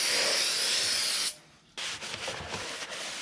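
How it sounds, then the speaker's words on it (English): Brake cleaner hisses in a long spray onto the rear brake rotors of an MK7 Golf R, pauses briefly, then comes the rough scrubbing of a rag wiping the rotors, loud and close. "we always recommend cleaning that off with some brake clean"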